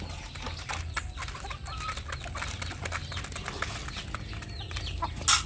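Backyard chickens, including a Thunderbird stag, cluck and chatter steadily at close range during feeding, with scattered sharp peeps and wing flutters and a brief louder squawk near the end; no talking.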